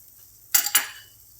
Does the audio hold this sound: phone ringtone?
no